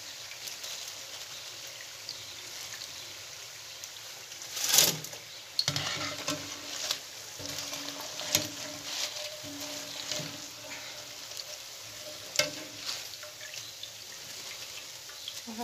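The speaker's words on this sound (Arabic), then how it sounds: "وهكا غادي نستمروا القلي ديال البريوات ديالنا" Filled briouat pastries frying in oil, a soft continuous sizzle and bubbling with occasional faint clinks and scrapes, fairly quiet and close.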